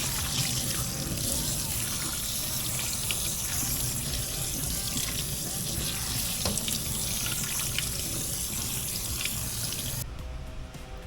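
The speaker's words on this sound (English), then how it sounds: "Pass some cold water over it to stun the cooking." Cold tap water pours steadily over strained cooked noodles in a kitchen sink, a loud continuous splashing rush that stops abruptly near the end.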